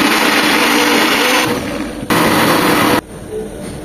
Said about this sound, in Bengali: মটরশুঁটির সাথে এখন আমি 4টা কাঁচামরিচ আর 1 চামচ ধনেপাতা দিয়ে ব্লেন্ড করে নেব